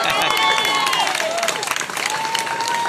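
A crowd at an outdoor Liberty Fest political rally breaks into loud applause with whoops and cheers, dense clapping carrying throughout alongside shouted voices.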